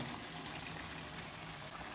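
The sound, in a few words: water being added to frying masala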